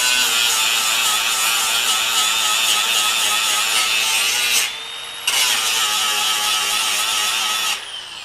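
A Metabo HPT 36V cordless grinder bevels quarter-inch structural steel, a loud, close, high-pitched whine with grinding noise that drops briefly as the disc eases off, then resumes before tapering near the end.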